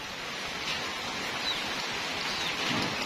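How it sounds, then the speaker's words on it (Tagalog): Steady heavy rain pours down in a dense, continuous hiss, with no voices. "Kasi ulan natin, oh, napakalakas."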